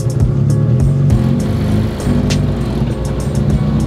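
A turbocharged Honda Civic engine held high against its boost cut, a loud droning rev with rhythmic stuttering cutouts and pops repeating through the whole stretch.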